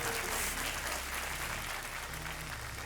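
Studio audience applause on a Hindi TV quiz show (KBC season 6), a steady dense wash of clapping filling the clip at moderate level without voices.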